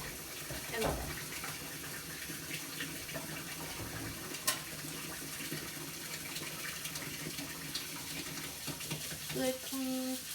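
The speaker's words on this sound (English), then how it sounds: "Clean this with soap" Tap water running steadily into a kitchen sink during washing with soap and water while preparing an apple pie, a continuous close splashing stream that lasts throughout, with a brief clatter and faint voice near the end.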